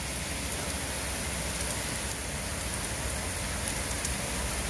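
Steady rain pours down during a two-week spell of wet weather, a dense, unbroken hiss of falling drops heard on its own with no voices.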